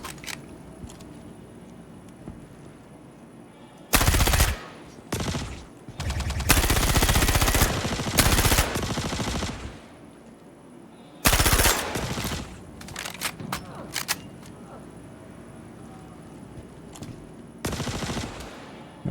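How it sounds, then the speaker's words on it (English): Bursts of automatic gunfire in Star Citizen, several loud sustained volleys separated by quieter gaps, some long and some short, with occasional single shots in between. "I'm not sure who they're shooting at."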